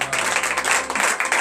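A brief round of loud clapping from a congregation at a morning prayer service in Benin, dense and continuous, lasting only a moment.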